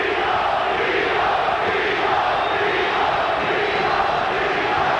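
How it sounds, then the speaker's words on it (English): The boxing arena crowd at the Felix Trinidad vs Pernell Whitaker fight chants for Trinidad, a loud, steady roar of many voices filling the whole stretch without a break. "Crowd chanting, Tito, Tito, Tito, Trinidad's nickname"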